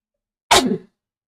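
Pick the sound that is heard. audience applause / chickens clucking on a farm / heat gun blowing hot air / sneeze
sneeze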